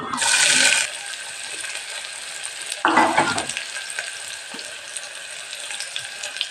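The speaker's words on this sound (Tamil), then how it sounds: "அதுக்கப்புறம் வெங்காயம் போடணும் அது வேகிட்ட" Onions hit a pan for chicken biryani with a loud burst of sizzle, then a low crackle continues; a second sharp sizzling splash follows a few seconds later amid light stirring clatter.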